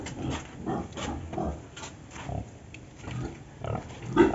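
A healthy pig in its pen grunts and snuffles in short, repeated bursts, close and fairly loud against a faint noisy background.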